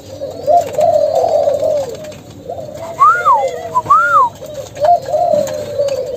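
A spotted dove coos repeatedly at close range in soft, rhythmic phrases, with a couple of brighter whistle-like notes in the middle, over quiet background noise.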